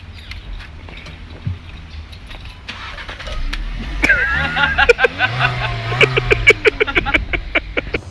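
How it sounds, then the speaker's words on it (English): A car engine cranks and catches, then runs with a rough, pulsing idle that grows louder and more rhythmic, while voices murmur faintly in the background. "Start up the car."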